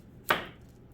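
A single quick knife stroke slicing the top off a medium onion, one crisp close cut against a board, then quiet.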